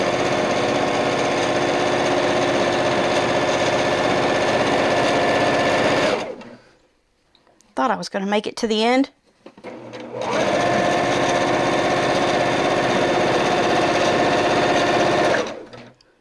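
A highly sensitive, fast quilting sewing machine runs a long seam at full speed, a loud steady mechanical whir lasting several seconds, stopping for a short spoken remark, then running again at the same high speed before cutting off.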